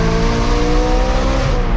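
A BMW M car with the S65 V8 engine drives past loud and close, its engine note a steady harmonic drone, with faint tire squeal and no voices.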